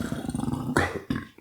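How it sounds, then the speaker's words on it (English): A close, deep, rumbling burp after eating a Domino's Spinach and Feta and Pacific Veggie pizza, starting as a gurgling croak and ending in a couple of short abrupt bursts. "Oh, do I have a burp coming on?"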